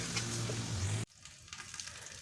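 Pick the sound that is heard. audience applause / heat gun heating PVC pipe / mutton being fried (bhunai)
mutton being fried (bhunai)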